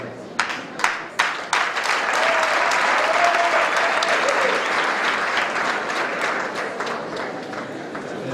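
Audience applause at a classical choir concert by Chorale Illuminatio: a few separate claps quickly swell into loud, dense, sustained clapping from a large crowd that continues steadily to the end.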